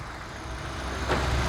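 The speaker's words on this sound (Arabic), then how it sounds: "الموتور برضو اداء مستقر رغم احنا فاتحين الانوار كلها عالي وواطي وشبوره" A car engine idles steadily with the headlights on high and low beam and the fog lights switched on, giving a low, even hum close by with a brief bump near the end and no talk.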